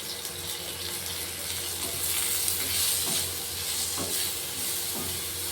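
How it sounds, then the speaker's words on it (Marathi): Onion frying in a little oil, a continuous close hiss and crackle that holds steady with faint stirring. "कांदा हा जास्त काळा करायचा नाही, हा ब्राऊन होईपर्यंतच भाजू द्यायचा"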